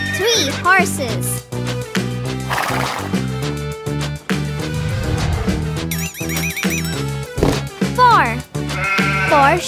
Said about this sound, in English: Four sheep.